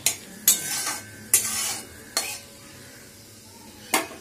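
Five-spice and a dried red chilli sizzle softly in hot oil in a pan, broken by several sharp clanks of a utensil stirring against the metal.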